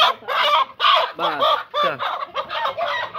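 Several chickens cluck and squawk close by in quick, uneven bursts, with a brief spoken word in between.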